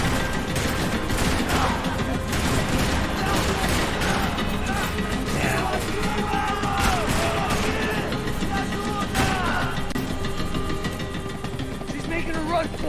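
Rifle gunfire in an Xbox 360 video game: a dense stretch of repeated shots and booms mixed with engine rumble and action noise, loud and constant, with voices shouting over it.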